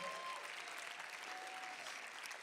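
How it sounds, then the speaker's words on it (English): Church event audience applauding for Pastor JJ, a dense, steady wash of clapping from a crowd indoors, sustained evenly throughout. "Why don't you give an applause to him, Pastor JJ?"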